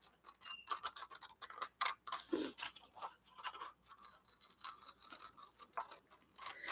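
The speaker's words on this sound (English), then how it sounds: "And I'm cutting on the farthest line out so that I'm getting my seam allowance" Scissors snipping through a paper rag doll pattern along the outer seam-allowance line, a close, irregular series of crisp cuts and rustling paper scrapes, fairly quiet and without speech.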